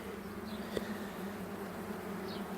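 Honeybees drone steadily around an opened queenless hive during an inspection, a close, even buzz with one small knock and a few bees passing nearby.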